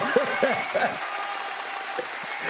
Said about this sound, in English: Clap it up for my little sister Sheen Gun, man.